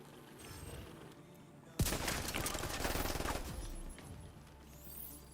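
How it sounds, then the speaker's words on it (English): Automatic gunfire erupts in the shooter game The Division 2, a sudden sharp report followed by a dense rapid burst of shots lasting about two seconds, then fading into quieter background noise. "The guns sound different all of a sudden."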